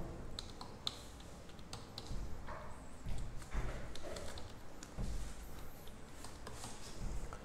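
Someone types an IP address on a computer keyboard, a quiet run of soft clicking keystrokes in irregular bursts against faint room noise, with no talking.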